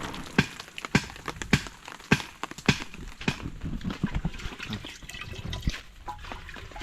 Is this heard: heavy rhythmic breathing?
no